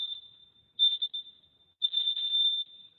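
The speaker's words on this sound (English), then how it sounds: "you'll just hear that beep to move on" A high electronic workout timer beep, sounding in two longer bursts with a faint steady tone between them, clean and alone.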